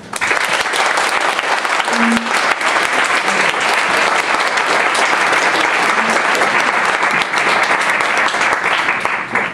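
Sustained applause from an audience welcoming Congressman Barney Frank at a Yale Democrats event, dense steady clapping filling the room without a break.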